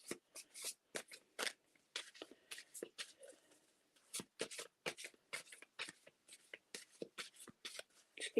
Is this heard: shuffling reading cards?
yes